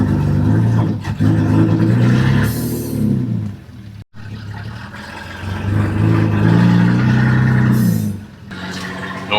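A 1974 Volvo 164e with a redblock engine, mufflers deleted for one chambered muffler and side pipes, roars loudly nearby, revving up and easing off in two long pulls with a brief cut between.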